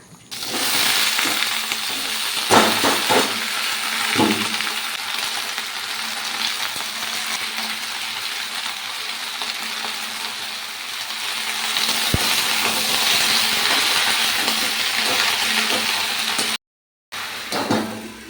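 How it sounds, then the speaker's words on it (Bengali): Potato pieces fry in hot oil in a home kitchen pan, a loud, steady sizzle with occasional stirring clinks and scrapes throughout. "এখন আমি আলুগুলো ভেজে নিচ্ছি"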